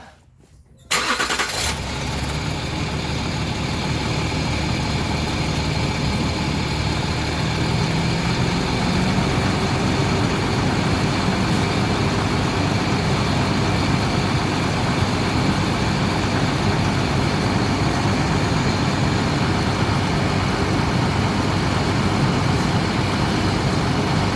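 A Land Rover Discovery 3 engine starts with a quick crank and then settles into a steady, loud idle that runs on unchanged while it pumps oil out of the ZF 6HP26 automatic transmission pan.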